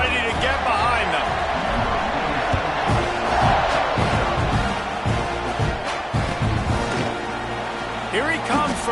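A football stadium crowd roars and cheers at kickoff, a loud sustained din with shouts and surges, while a commentator talks over it throughout.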